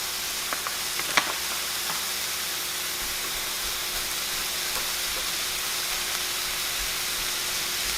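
Rice, corn and black beans sizzle steadily in a hot skillet while being stirred and broken up, a continuous close frying hiss with a few faint scraping clicks near the start.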